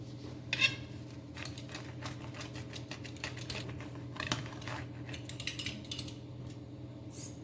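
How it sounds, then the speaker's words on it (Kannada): A pizza cutter slices through a Mexican-style egg omelette topped with melted cheese, giving faint repeated clicks and scrapes against a plate over a low steady hum. "ಅದನ್ನು ಈ ಪಿಜ್ಜಾ ಕಟ್ ಇರುತ್ತಲ್ಲ ಅದರಲ್ಲಿ ಈ ಥರ ಕಟ್ ಮಾಡಿ"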